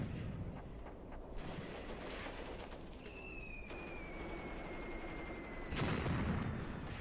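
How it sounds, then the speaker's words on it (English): Distant artillery fire in the World War II tactics game Graviteam Tactics, with a low, rumbling barrage booming steadily under the battlefield ambience, a whistling tone passing midway and a heavier thump near the end. "Ah, my artillery is getting closer."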